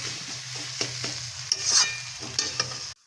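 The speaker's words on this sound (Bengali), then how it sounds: "আর কালো জিরে দিয়ে ভাজি হচ্ছে, শাক ভাজি" Leafy greens frying with black cumin in a pan, a steady sizzle with scraping stirs and a few sharp utensil clicks, close and alone before cutting off abruptly.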